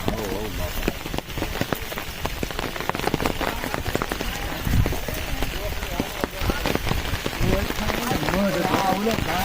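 Heavy rain pattering steadily on surfaces in a village, with people talking and calling out over the downpour while rescuing a cow fallen into a well.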